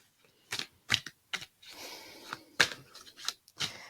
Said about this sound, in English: And I am shuffling the Tarot of the Secret Forest.